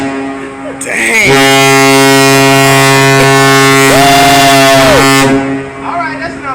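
Deep, sustained horns from two Carnival cruise ships, Fascination and another, blast a steady harmonic drone across the water while departing Freeport, Bahamas, answering each other in a long loud chorus as people talk in the background.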